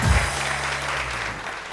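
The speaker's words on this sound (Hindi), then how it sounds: "बहुत सारी तालियां।" A studio audience on a morning television show applauds in a dense, steady wash of clapping. Early on, a low hum or voice sits under it.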